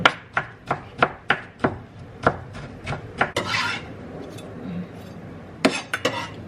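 A knife slicing a pickle on a cutting board, about a dozen crisp, evenly spaced chops in quick rhythm, then a short scraping rub and a few more quick cuts, close and clear with no talking.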